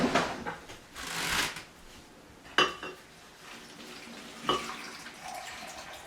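Water poured onto shredded paper in a container during a recycled papermaking activity, giving irregular splashes and sloshing bursts with a few sharp wet slaps, close and moderately quiet, no talk.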